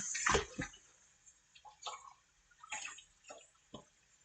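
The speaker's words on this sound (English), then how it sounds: "Then just rinse it off again." Dishes being rinsed under running water at a kitchen sink, heard as a few brief splashing bursts of moderate loudness separated by quieter gaps, with no talk.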